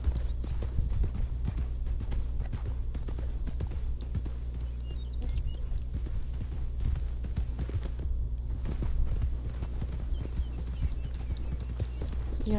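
Horse hooves clip-clopping in the Red Dead Redemption 2 video game, a continuous fast rhythmic beat over a steady low rumble of ambience throughout.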